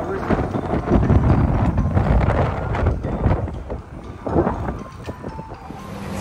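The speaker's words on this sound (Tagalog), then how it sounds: "Grabe, ang lakas ang hangin guys." Strong wind gusting outdoors in Lévis, Quebec, a continuous loud rumbling roar with buffeting against the microphone throughout, while a voice talks over it.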